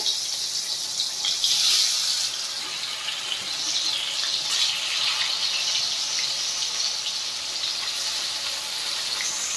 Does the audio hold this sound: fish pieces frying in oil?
yes